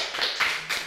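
Brief patter of hand claps from a small live audience at an Indonesian talk show, light and close, swelling in three quick bursts within a second with no talk over it.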